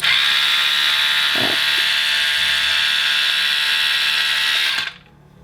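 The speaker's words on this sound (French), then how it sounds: "Vous allez avoir affaire à un bruit de tondeuse" A small electric split-end hair trimmer buzzes steadily at close range with a high whine, then switches off near the end, leaving quiet.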